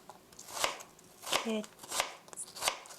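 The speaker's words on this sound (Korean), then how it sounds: "얇게 썰어주세요" A knife cuts thin apple slices for an apple cinnamon cake, four distinct crisp strokes landing roughly every half second, close and clear.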